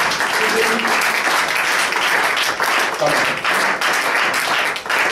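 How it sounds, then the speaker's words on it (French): A church congregation applauds throughout a seminary service, steady dense clapping filling the room, with voices and shouts mixed in over the applause. "Applaudissez pour la gloire."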